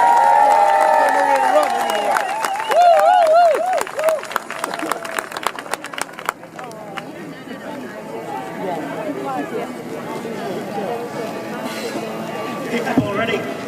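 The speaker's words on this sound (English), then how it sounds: "give him a big cheer for going for this" Outdoor crowd at an anti-austerity rally in Piccadilly Gardens, Manchester, cheering and clapping loudly at first, then the applause thins into scattered claps and murmuring chatter, with a voice carrying over the noise early on.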